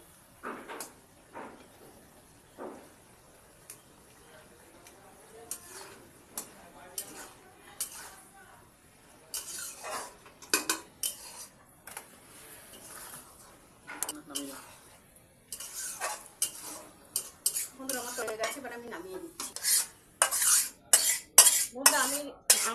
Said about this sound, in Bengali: একটু সাইড থেকে আলু একটু ঘেটে দিচ্ছি